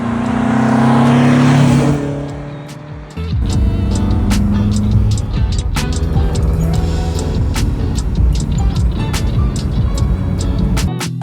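An Alfa Romeo Giulia's engine roars loud and close, dipping briefly before surging again into a sustained, rising acceleration with no voices over it.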